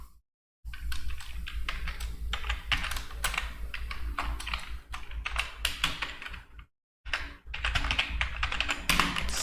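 Fast, steady typing on a computer keyboard, close and distinct, with a low background hum and two short pauses.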